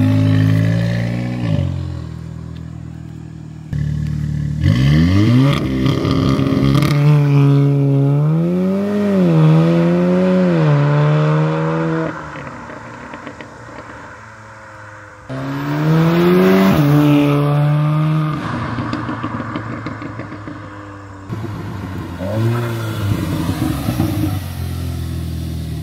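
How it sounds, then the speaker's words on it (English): A modified Subaru FRS launches and accelerates hard through several gears. The engine revs climb loudly and sharply, with brief breaks at each shift, then the car settles to a lower drone before another rising pull. "That was a good launch."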